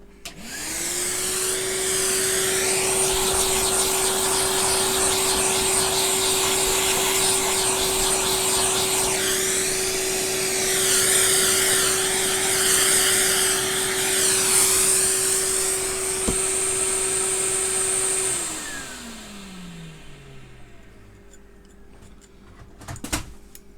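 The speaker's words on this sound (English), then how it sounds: "once I've vacuumed it" A vacuum cleaner runs steadily and loud for nearly twenty seconds while Hoover Junior Dirtsearcher parts are cleaned during a refurbishment, its motor tone holding constant before winding down and fading at the end.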